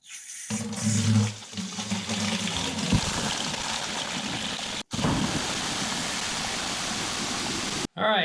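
Strong, steady rush of water running from a tap to flush well water lines in a basement, continuous and loud for several seconds with a brief cutoff midway and near the end.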